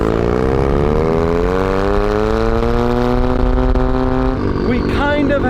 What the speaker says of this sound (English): There's a bit of a knock sound coming from up there, maybe. There's some sort of a tick going on.